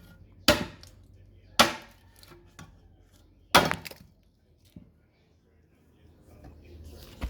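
A custom Hanyan Spartan blade chops bamboo in three sharp, loud strikes spaced a second or two apart, followed by a few fainter knocks and low handling noise.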